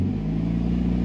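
A Honda CRX engine, parked in a garage, rises from idle into a steady, loud revving hum with a deep low rumble throughout, close by and alone without any voices.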